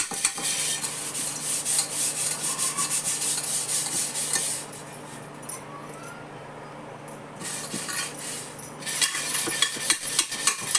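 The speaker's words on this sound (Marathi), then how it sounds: "आधी आतली बाजू घासू." Inside of a pressure cooker scrubbed with Pitambari cleaning powder: steady, close rasping strokes of rubbing against metal, briefly easing off midway before vigorous scrubbing resumes, with faint clinks of the pot.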